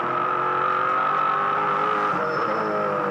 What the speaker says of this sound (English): Little blip back to 3rd gear.